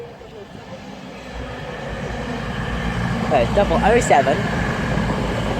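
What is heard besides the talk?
East Midlands passenger train arriving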